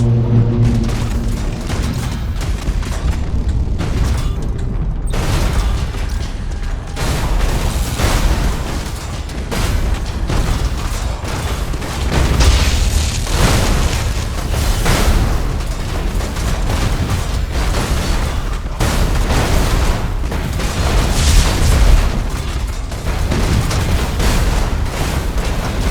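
Thunderhawk bombardment in the space strategy game Battlefleet Gothic: Armada 2, a dense, continuous rumble of heavy explosions and booms layered over one another for the whole stretch, loud and unrelenting.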